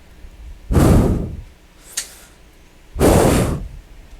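A voice imitates a thin garage door banging: two loud, broad whooshing bursts a couple of seconds apart, with a sharp click between them and no other sound.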